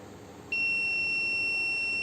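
A buzzer on a motion-sensing robotics project device switches on abruptly and holds a shrill, steady electronic tone, loud and close, after a brief quiet moment.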